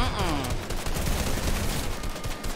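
Heavy assault rifle fire in the Fortnite battle royale video game, a dense continuous burst of rapid shots lasting the whole moment, loud and close.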